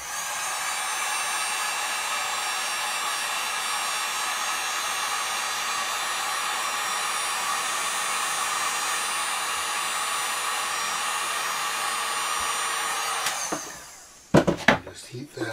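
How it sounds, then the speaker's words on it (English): A heat gun used for edge trimming a new desk runs in a steady, loud, continuous blowing whine for most of the span, then cuts off and is followed by brief handling clatter. "we'll just get our heat gun going"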